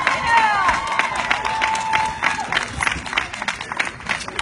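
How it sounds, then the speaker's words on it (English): An audience at the Macy's Thanksgiving Day Parade gathering for the Prairie View A&M University Marching Storm claps and cheers, a high whoop early on and then scattered, uneven applause that gradually thins out. "So give yourselves a round of applause."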